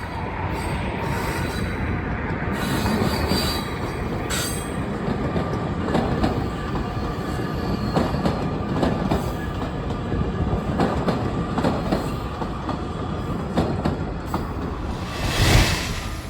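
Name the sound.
outbound Metro Electric train passing through Chicago park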